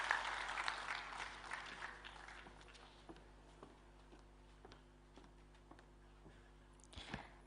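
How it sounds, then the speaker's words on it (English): Audience applause at a G20 summit business session, faint scattered clapping that starts fuller and thins out to sparse claps, distant and quiet with a low steady hum underneath. "A big round of applause for the people of Manipur."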